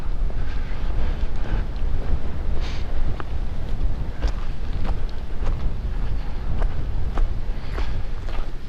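Strong winter wind at Bastrop State Park buffets the microphone in continuous low rumbling gusts, with occasional sharper bursts.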